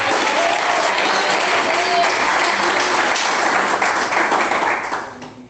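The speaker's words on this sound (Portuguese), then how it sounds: "Quem bate palmas?" A church congregation applauds in a dense, continuous wash of clapping that holds steady, then fades out near the end, with a few voices faintly mixed in.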